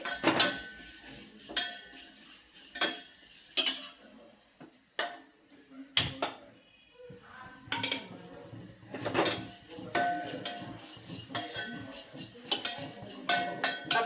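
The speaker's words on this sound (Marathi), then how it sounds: "आता त्याच तुपामध्ये आपल्याला शेवई घालून घ्यायची आहे आणि परतून घ्यायची आहे" Vermicelli is stirred and fried in ghee in a pan. A utensil scrapes and clinks against the metal in irregular, close strokes, with brief quieter gaps between them.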